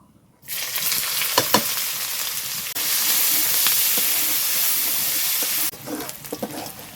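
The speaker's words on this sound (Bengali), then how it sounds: "পেঁয়াজটাকে আমি বন্ধুরা গোল্ডেন কালার অবধি ভেজে নেব" Onions frying in oil with black peppercorns, cumin and bay leaf for a chicken curry give a steady, close sizzle with occasional stirring scrapes, swelling louder midway before settling back.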